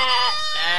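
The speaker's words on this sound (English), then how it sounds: "Goat. Goat. Bakri." A goat bleats in one sustained, wavering, nasal cry lasting under a second, loud and close, with no other sound around it.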